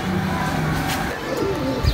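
Soft pigeon coos sound close by against a steady low background hum, with a few repeated throaty calls and no talking.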